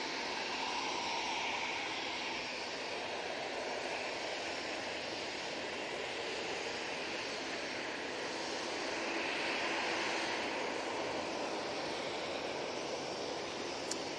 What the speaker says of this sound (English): So we have the easyJet coming on in front of us.